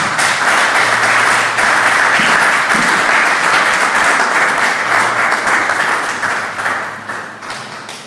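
A church congregation applauds during a worship service, a loud, dense, continuous roar of clapping from many hands that holds steady and then gradually fades toward the end.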